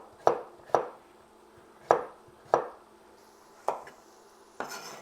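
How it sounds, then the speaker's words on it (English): A kitchen knife chops through butternut and delicata squash on a cutting board, cutting it into half-inch chunks: six sharp, distinct thunks at uneven intervals, close and clear, with no talk. "that's the last of our squash, all cut up into about 1/2 inch chunks"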